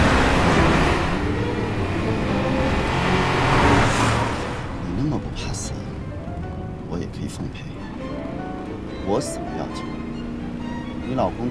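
A car drives off in a tense kidnapping drama scene: a loud broadband engine rumble fills the first few seconds, then fades away under voices and scattered clatter.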